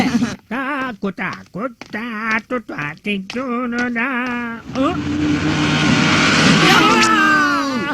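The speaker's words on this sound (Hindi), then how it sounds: "अरे बदमाश बच्चों, रोड पर बोट चलाना ठीक नहीं है।" A cartoon boat engine roars while the boat is driven along a road, a steady broadband motor drone rising midway after a stretch of speech and continuing loud with voices over it.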